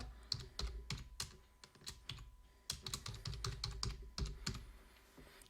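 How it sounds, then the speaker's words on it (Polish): Rapid, uneven clatter of keys on a computer keyboard as a profile name and password are typed in, close and clear, with short pauses between bursts and no voices. "Wpisujemy tutaj nazwę naszego profilu oraz hasło."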